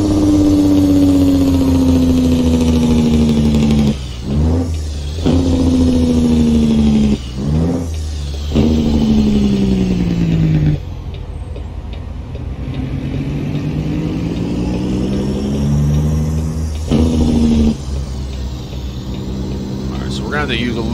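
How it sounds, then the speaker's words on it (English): Heavy truck engine in American Truck Simulator revving through gear changes, with a whining turbo pitch rising and dropping in repeated pulls, loud and close, and someone talks over it. "I love hearing the turbos just make that scream."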